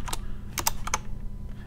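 Keys clatter on a computer keyboard during coding, a few quick bursts of clicks with short pauses between them, close and clear over a faint background hum.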